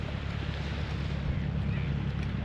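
Wind gusting and buffeting the microphone in a low, steady rumble, with faint outdoor background noise.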